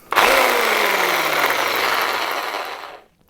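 A corded reciprocating saw's electric motor runs loud and steady for about three seconds under a falling whine, then cuts off abruptly into silence.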